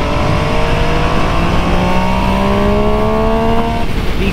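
An MV Agusta Superveloce 800 motorcycle engine accelerates hard on a fast autobahn run, its loud, close, steady roar climbing in pitch through the revs, with wind rush underneath.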